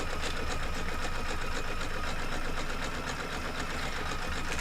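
A sewing machine stitches a patchwork piece in a steady, fast mechanical whir with a continuous rapid rhythm, close and even throughout with no voices.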